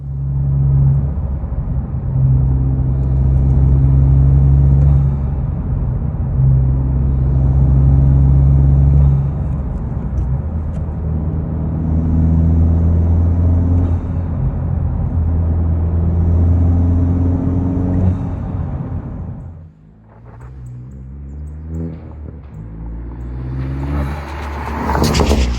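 An 11th-generation Honda Civic fitted with a 27won hybrid cold air intake revs in rising and falling waves, a loud, close engine drone that dips briefly before building again.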